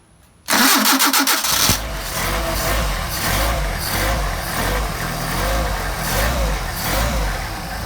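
A Mercedes 190SL with Solex carburetors cranks with a short whirring starter burst, catches and settles into a loud, steady idle with a rhythmic low throb close to the microphone.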